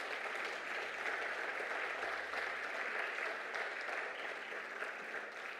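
Congregation applauding in a church, a sustained, even wash of clapping that fills the space at moderate volume from start to finish.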